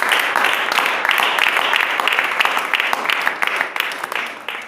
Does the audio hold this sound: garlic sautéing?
no